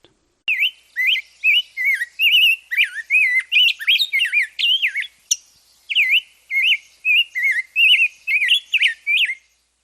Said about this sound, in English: the rose-breasted grosbeak can certainly make up for that